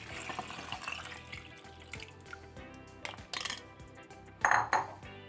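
Coconut milk is poured from a container into a cooking pot for cornmeal pudding, a soft liquid trickle with light clinks of the pot and a sharper splash and clatter near the end.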